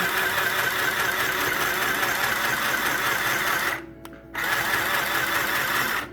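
A sewing machine stitches fabric for a tote bag, running steadily and fairly loud with a dense mechanical whir, then stops briefly for a pivot at a corner before resuming at the same pace. No one talks.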